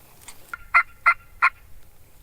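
Wild turkey toms gobble on a hillside, three short rattling gobbles in quick succession at moderate distance, clear over quiet outdoor background.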